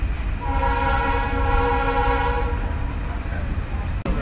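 A train horn blares long and loud at Chulkati Bazar station on the Mohammadnagar to Mongla line, holding for about two seconds over a rumbling background, with a sharp knock at the end.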